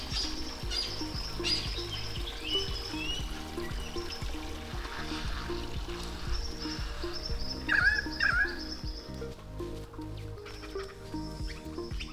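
A lyrebird sings a varied stream of whistles, trills and mimicked calls at a moderate distance, over steady trickling water, on a bush walk at Glenbrook.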